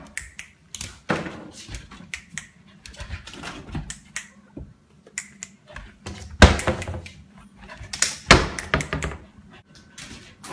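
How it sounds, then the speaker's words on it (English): A trained dog bumps drawers shut, giving a run of irregular knocks, thuds and sharper slams of wood, close and fairly loud against a quiet room. "Chucky, close the drawers"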